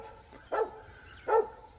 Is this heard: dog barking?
yes